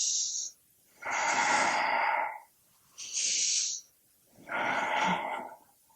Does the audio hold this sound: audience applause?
no